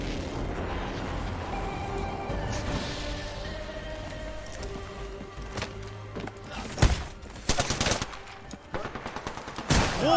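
Gunfire in a battle royale video game: a few sharp, loud shot bursts stand out late over a busy game soundscape, near and clustered, alone without speech.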